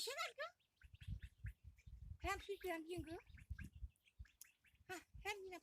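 Ducks quack and chatter in short bursts outdoors in a grandmother's garden, with a person talking quietly in between the calls.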